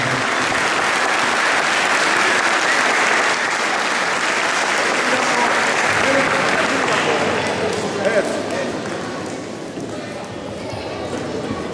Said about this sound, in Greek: Να χειροκρότημα παρακαλώ